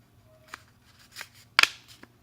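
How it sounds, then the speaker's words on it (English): Paper being folded in half and creased, a few short crisp rustles and one louder sharp crinkle, close and quiet with no talking. "You just take your paper, fold it in half,"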